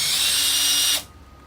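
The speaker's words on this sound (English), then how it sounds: "Switch over to the drill so we can screw these multiple screws out." A power drill whirs loudly and steadily while unscrewing screws from a boat fridge door, then cuts off abruptly, leaving quiet room tone.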